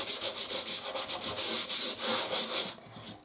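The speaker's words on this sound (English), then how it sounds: "Now I'm going to take my sandpaper and just" Sandpaper rubs back and forth along the edges of a wooden piece in quick, steady strokes, close and fairly loud, with a rhythmic scratchy swish that stops near the end.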